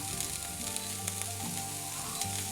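Pork sizzles and fries in a pan with beetroot, a continuous crackling hiss with occasional sharper pops, close and steady, while faint tonal humming runs underneath.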